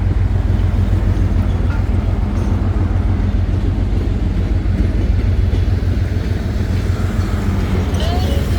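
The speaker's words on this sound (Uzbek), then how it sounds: "Yo, Toshkentga ketyapti bu. Toshkentskiy poyezd." A passenger train bound for Tashkent rolls past with a steady, loud rumble of wheels and engine that holds evenly throughout, with no clear breaks.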